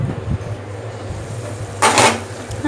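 A lid goes onto a pot of fish curry on the stove: one brief, bright metallic clink and scrape near the end, over a low steady kitchen hum.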